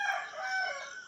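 A single rooster crow in the morning, faint and fairly distant, a drawn-out call heard on its own.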